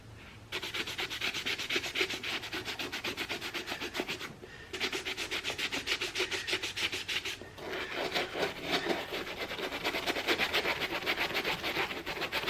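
Scrubbing paint off Nike Air Force 1 sneakers: close, rapid rhythmic rubbing strokes in steady bursts with two brief pauses, loud and dry with no voices.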